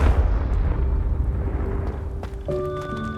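A Confringo fire spell blasts in Hogwarts Legacy, giving a loud, close explosive boom with rumbling debris that settles into a short magical chime and a fading tonal ring.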